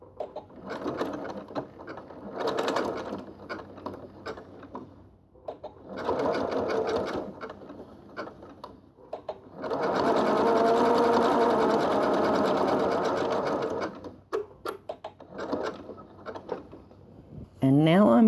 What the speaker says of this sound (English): I'm going to start by sewing without altering anything on the machine at all